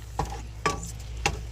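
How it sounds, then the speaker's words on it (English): Blueberries boiling in a pot are mashed with a meat smasher, giving three distinct squelching, clattering strokes at a steady pace over a low simmering hiss. "it really doesn't take long for your blueberries to start boiling, and I'm just going to kind of break them up a little bit with my meat smasher"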